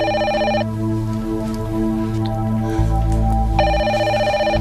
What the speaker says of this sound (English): don't you let the Cranes answer their own damn phone